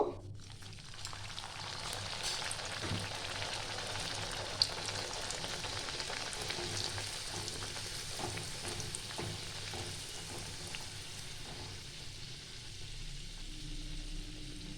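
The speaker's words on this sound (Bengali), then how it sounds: "এবার আমি একে একে ভেজে নেব" Peas kachori fry in hot oil in a kadai with a steady, gentle sizzle and bubbling that carries on evenly, along with a few soft stirring clinks.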